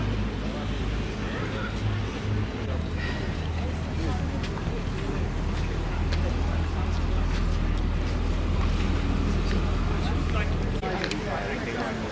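Steady droning tour boat engine on the water in Montenegro with wind noise, people chattering in the background throughout.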